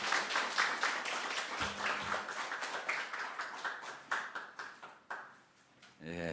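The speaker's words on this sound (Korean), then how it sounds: "다 같이 박수 치겠습니다." A congregation applauds during a pastor ordination thanksgiving service at a church, with sustained rhythmic clapping that gradually thins out before a brief quiet and a final clatter.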